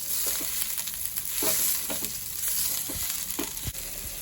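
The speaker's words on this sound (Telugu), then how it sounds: "ఆయిల్ వేస్తున్నాం కదా ఇప్పుడు ఒకసారి అలా కలిపేసుకొని ఒక ఫైవ్ మినిట్స్ బాగా వేపేసుకుందాం" Tamarind leaves fry in oil in a pan with a steady sizzle, while stirring adds scraping, clattering strokes at irregular intervals; no voices.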